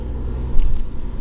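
A 1993 Mitsubishi 3000GT's 24-valve twin-cam 6G72 V6 idles just after starting, a close, even low purr with regular firing pulses and a slight swell partway through.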